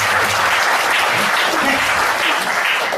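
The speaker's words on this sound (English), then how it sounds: "So can you please give a warm applause?" Sustained audience applause fills a seminar hall during a skincare product demonstration, dense and steady throughout, with no talking over it.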